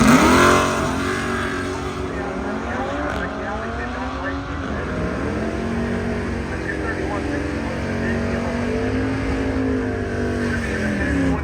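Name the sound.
drag racing cars, 1972 Chevy Monte Carlo accelerating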